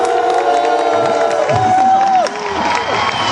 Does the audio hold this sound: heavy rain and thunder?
no